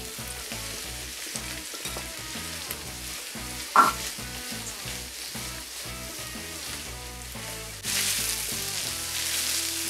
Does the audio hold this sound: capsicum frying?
yes